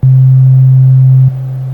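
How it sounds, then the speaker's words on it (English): A pure, steady synthesizer tone sounds loudly, then drops abruptly to a lower, quieter sustained level after just over a second. "let's listen to our sound now with a fast decay"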